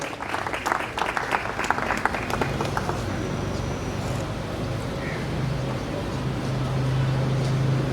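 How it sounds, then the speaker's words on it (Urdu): Conference audience claps loudly for several seconds, dense applause that thins out and gives way to a steady room hum. "آپ کی زوردار تالیوں میں ان کو اظہار خیال کے لیے دعوت دینا چاہوں گا"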